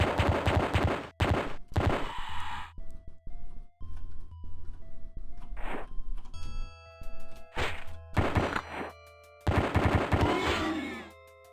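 Bursts of gunfire in the Pathways Into Darkness first-person shooter, with rapid clusters of loud shots separated by pauses, mixed with game tones, chimes and sharp impact sounds.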